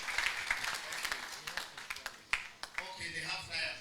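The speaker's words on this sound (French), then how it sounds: "Acclamons pour lui." Applause in a church, a short scatter of claps rising and fading over a few seconds, heard mixed with voices talking in the room.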